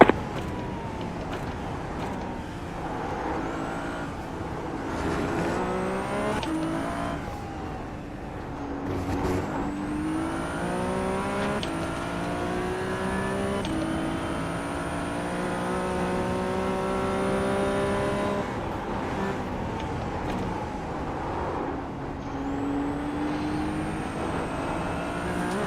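A Ferrari Challenge race car at Oulton Park in the iRacing sim holds a steady, loud engine drone throughout, with rising and falling revs through gear changes and braking, plus a faint high whine.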